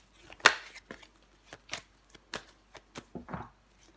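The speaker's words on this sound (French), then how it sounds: "On va recouvrir des cartes" Tarot cards laid out and turned over on a table, a series of soft slaps and brushing flicks in an irregular rhythm, close and crisp with no talk.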